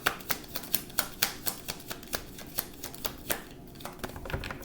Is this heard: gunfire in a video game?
no